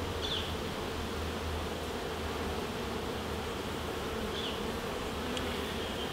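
Honey bees from a gentle colony buzz steadily around the hive frames during an inspection. The close, even hum holds for the whole stretch with no talking.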